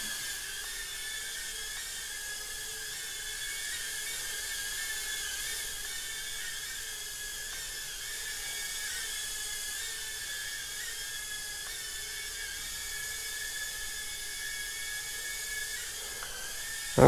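A steady, high-pitched whine of an ATOYX AT66 toy drone's spinning propellers holds evenly throughout, fairly loud and close, with no talking.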